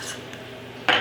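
A utensil mixes Italian seasoning and onion powder in a bowl, heard as a quiet lull and then one sharp scraping clink near the end.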